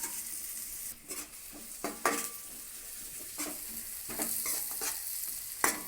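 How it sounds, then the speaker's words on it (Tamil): Onions sautéing in a pan for a bean stir-fry, with a continuous sizzle broken by repeated scraping stir strokes of a spatula against the pan, close and fairly loud, with no talking. "இந்த வெங்காயம் வந்து அப்படியே வதங்கட்டும் கலர் சேஞ்ச் ஆகிற வரைக்கும் அப்படியே வதக்கி எடுத்துருவோம்"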